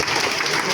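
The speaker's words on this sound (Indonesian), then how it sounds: "Tepuk tangan untuk Bapak Ibu guru." A hall of teachers gathered for a training opening claps for them, a dense burst of applause filling the whole short moment.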